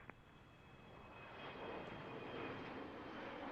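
An Embraer E135 jet passes at Harrisburg International Airport, its engine roar rising from a faint distant rumble to a steady, broad whoosh that fills the air, with no talk.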